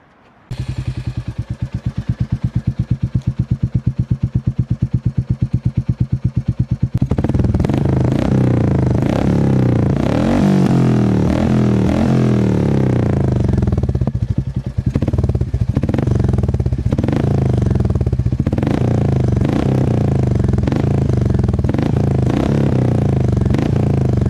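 Royal Enfield Meteor 350 fitted with a KP Racing exhaust, idling with a fast, loud thump and then revved hard in repeated throttle blips. The sound is close and deep, with a raspy, popping exhaust note.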